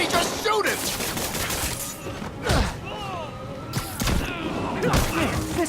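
Gunfire from Kingpin Fisk's armed henchmen in the Marvel's Spider-Man video game: a dense, sustained volley of shots and thuds running throughout, with voices talking over the combat.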